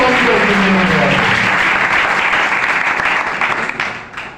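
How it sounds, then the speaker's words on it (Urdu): A church congregation breaks into loud, sustained applause at a sermon, a dense wash of clapping that stays strong before tapering off toward the end. "زوردار تالیاں"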